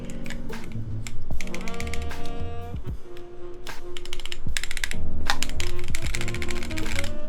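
Keys clack rapidly on a keyboard just fitted with a changed keycap, with loud irregular bursts of keystrokes and short pauses between them.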